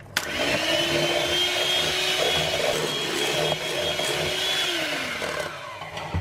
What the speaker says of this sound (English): and we'll just whisk that in.